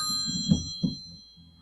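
Phone notification ding, a faint electronic chime with two soft strikes close together, alone in a quiet room.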